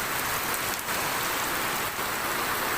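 Steady rain pours down, a dense continuous hiss of drops striking a surface, fairly close and unbroken throughout.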